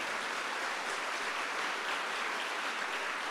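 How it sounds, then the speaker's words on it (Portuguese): An audience gives a steady wash of applause, even and fairly faint, sounding a little distant throughout. "pode aplaudir, se você quer aplaudir, aplauda"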